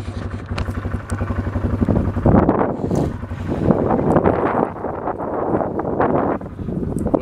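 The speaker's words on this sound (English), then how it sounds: "Yeah, it's windy out." Wind roars against the microphone while riding a four-wheeler across a soft hayfield, a loud, continuous rumble that swells after a few seconds and covers the throbbing engine heard at the start.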